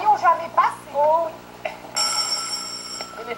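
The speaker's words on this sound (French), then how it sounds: "Téléphone." A telephone rings with a bright, sustained electronic trill in a cartoon scene. It starts partway through after some chatter and high character voices, loud and close, and fills the last second and a half.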